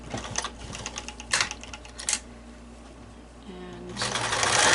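A sewing machine stitches a fabric cover for an N95 mask, its motor buzzing in short bursts separated by pauses, then running steadily louder toward the end, with faint background noise between runs.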